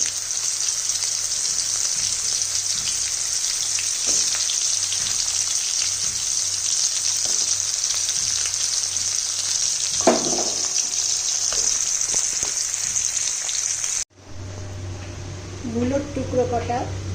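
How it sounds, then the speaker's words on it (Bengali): Radish pieces fry in hot oil in a pan, giving a loud, continuous sizzle that runs steadily and then cuts away abruptly near the end, where a voice is heard briefly. "এবারে একে একে আমি সবজিগুলো ভাজবো এবং এক একটা সবজি মেশাতে থাকবো সব থেকে আগে আমি দিয়ে দিচ্ছি মূলো"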